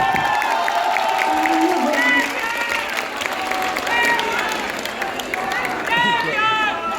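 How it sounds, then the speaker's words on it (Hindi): A live crowd at a stage event claps and cheers, a steady roar of hands and shouts beneath loud voices and music-like tones from the stage. "मोबाइल छोड़ दो, ताली बजा ले"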